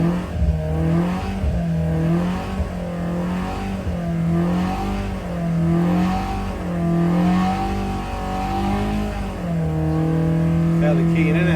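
A five-bearing 1200 cc sand-cast Imp engine with an experimental Climax FWH head revs repeatedly, its note rising and falling through several gentle blips, loud and close with people talking alongside.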